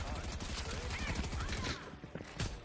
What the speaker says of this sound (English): Who's trying to shoot me?